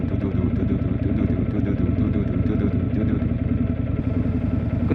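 An Indian Scout Bobber motorcycle engine idles steadily up close, with a loud, continuous low rumble and fine rhythmic clatter running for the whole stretch without a break.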